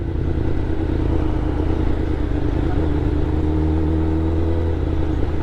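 Someone rides a motorcycle with a steady engine drone and road rumble, close and continuous, the pitch shifting slightly partway through as the bike speeds up.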